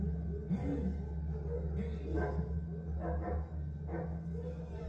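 Dogs readied for a hunt bark and yip in short bursts at moderate distance, mixed with whimpers over a low steady background rumble.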